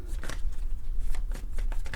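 Quick, close riffling of tarot cards being shuffled, a rapid series of papery flicks over two seconds with no talking.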